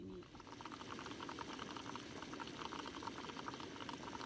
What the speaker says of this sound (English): It's an awesome fumarole that has water in it, so you can see the gas bubbling up.